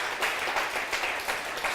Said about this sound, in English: Could you give our panelists a round of applause?